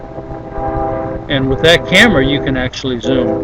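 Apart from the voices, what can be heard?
train horn sounding from a passing train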